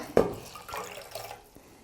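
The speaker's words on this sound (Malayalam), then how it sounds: "ഞാനൊരു തുണി മുക്കിയതിന് ശേഷം" A cloth splashes into warm water with a short slosh and a few drips, followed by quieter trickling, close by.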